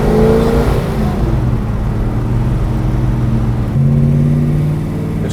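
A 1970 Chevelle SS454 engine on the move, a loud, continuous low drone that holds steady and then shifts to a new pitch partway through, as if changing gear, with no talking.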